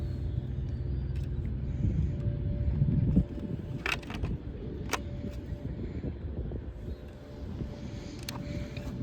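A 1990s Tamiya BearHawk radio-controlled car runs nearby, giving a low rumbling motor drone for a few seconds, then lighter rougher running noise with brief crackly bursts, under faint outdoor wind.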